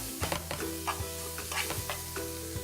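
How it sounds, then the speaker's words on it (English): Onions sauté in a hot pan that just cooked steak, sizzling steadily close by while a utensil stirs and scrapes them in repeated strokes, with no talking. "I'm going to add my onions to the hot pan that I cooked my steak in. And just saute these around."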